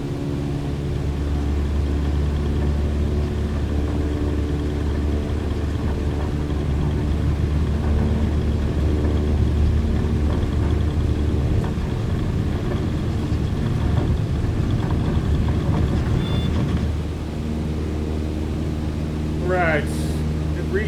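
An aircraft in Microsoft Flight Simulator 2020 rolls for takeoff from a short airfield, its engine holding a loud, steady droning hum with layered tones throughout, while someone talks over it.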